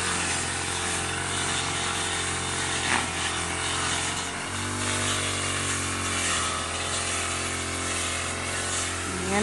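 A small petrol grass cutter drones steadily and loudly close by, a rough buzzing motor that holds its pitch throughout with slight fluctuations.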